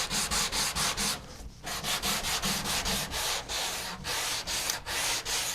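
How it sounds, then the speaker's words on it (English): Flat sandpaper on a sanding block is pushed back and forth along a guitar fretboard, making a close, rhythmic series of rasping wood-sanding strokes with a brief pause partway through. "I take that flatboard sandpaper,"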